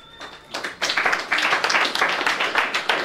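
Hands clap in a steady run of sharp, fairly loud claps, starting sparse and then settling into a rapid rhythm for about two and a half seconds, with a faint voice near the start.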